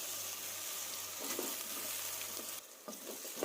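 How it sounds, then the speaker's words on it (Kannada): Potato and palak gravy base frying in a pan, a quiet steady sizzle broken by a few spoon stirs, with a sudden drop and a clink near the end. "ಇದನ್ನು ಸ್ವಲ್ಪ ಚೆನ್ನಾಗಿ ಹಸಿ ವಾಸನೆ ಹೋಗೋ ತನಕ ಚೆನ್ನಾಗಿ ಫ್ರೈ ಮಾಡ್ಕೋಬೇಕಾಗುತ್ತೆ."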